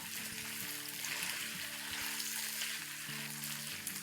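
Garlic frying in a pan on a stove over medium heat, a steady close sizzle with faint stirring and scraping underneath, no voices.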